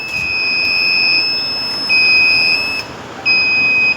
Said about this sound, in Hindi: ये अलार्म है।